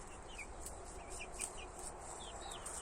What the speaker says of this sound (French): Et les voilà, les petits poussins.